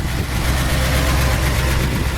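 A 1964 Ford Galaxie fastback's V8 with a 4-barrel carburetor and dual exhaust runs steadily at idle, a loud, close, continuous low rumble with an even throb and no voices over it.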